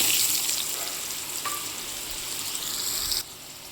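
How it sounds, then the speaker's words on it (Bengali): Pumpkin fries in oil seasoned with Bengali five-spice, making a steady, close hiss of sizzling that drops off abruptly near the end. "এবার আমি কুমড়োটা ভেজে নেব।"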